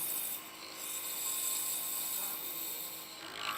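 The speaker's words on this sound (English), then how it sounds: "So don't hesitate to turn up the lathe." A wood lathe spins a blank while a tool cuts it, making a steady, continuous rasping and rubbing at moderate volume with no talking.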